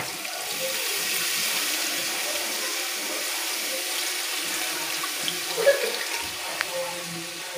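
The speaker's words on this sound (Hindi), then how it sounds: "थोड़ा सा पानी और डालेंगे।" Water poured into a cooking pot of fried garlic and spices for vegetable pulao, a steady rushing splash held for several seconds at moderate level, with a faint clink near the end and no speech.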